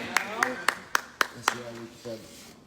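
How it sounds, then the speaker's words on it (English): Someone in a meeting audience claps for a speaker named Michael: six sharp, evenly spaced claps in a quick steady rhythm, with a voice talking over and after them. "clap it up for Michael"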